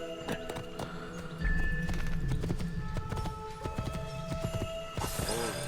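Hooves clop in a fast galloping rhythm as a horse is ridden through Renaissance Italy in the video game Assassin's Creed II, with game music and effects around them.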